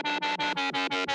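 A drum and bass synth processed with chorus and distortion pulses in a quick, even rhythm of seven buzzy, wide, gritty stabs, each cut off sharply before the next.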